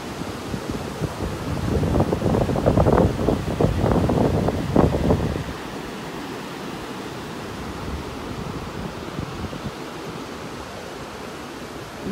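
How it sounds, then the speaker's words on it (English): Ocean surf and wind on an open beach in North Naples, Florida: a wave surges and washes for several seconds and then falls back to a steady windy hiss, close to the microphone and with no voices. "With these waves here, the breeze is really kicking in."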